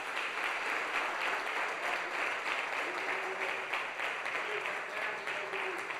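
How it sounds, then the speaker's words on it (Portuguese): A church congregation applauds during a worship service, a steady wash of many hands clapping, soft and even, heard from some distance with no break. "Eu quero que vocês dêem um aplauso para"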